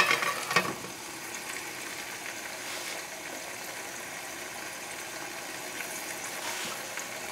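Small chicken pieces sizzle in a pan, a steady, close frying hiss with faint pops and a brief louder burst at the start, no voices over it.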